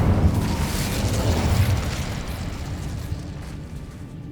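A fiery Incendio spell blast in the Hogwarts Legacy video game erupts as a loud, booming whoosh that rumbles on and slowly fades over a few seconds.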